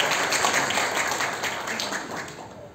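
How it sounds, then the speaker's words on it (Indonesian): Applause from a seated audience in a hotel function room during a motivational business seminar, a steady, soft wash of many hands clapping for a participant, held evenly throughout and tapering slightly at the end. "Oke, tepuk tangan buat pemain itu"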